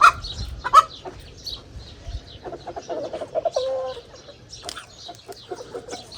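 Hens clucking close by in a short burst of irregular clucks and squawks, with quieter chatter between calls and a low background hum.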